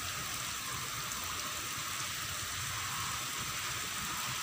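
Steady rain falls outdoors in a soft, even hiss that does not change over several seconds, faint and with no voices.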